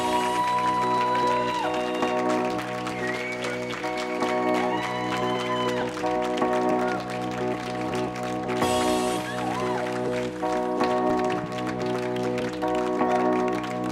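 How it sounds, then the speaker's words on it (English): Audience applause for poets gathered on stage at the Millennium Stage, steady clapping and some cheering heard under sustained musical tones and background sound. "And one more round of applause."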